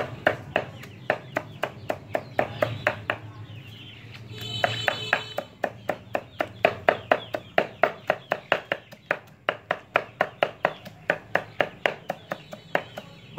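Banana stems are chopped for chicken feed in a steady, fast run of sharp chops, close and loud, that keeps going with only a brief pause partway.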